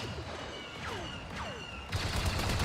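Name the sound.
gunfire from an enemy shooting at a tree, video game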